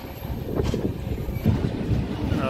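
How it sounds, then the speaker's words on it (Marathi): A train at Gorakhpur Junction railway station in India, a steady low rumble of carriages with some wind buffeting across the whole stretch, no talk. "देखा गोरखपुर जंक्शन"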